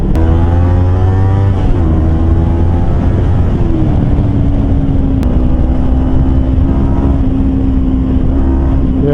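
A Kawasaki Versys X 250 Tourer fitted with a Norifumi slip-on exhaust runs close and loud, its engine note rising and falling as the throttle shifts, then settling into a steady drone.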